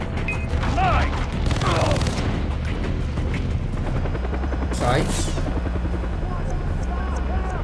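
A helicopter in the video game Far Cry 3 keeps up a loud, continuous rotor drone throughout, with bursts of gunfire and someone talking excitedly over it.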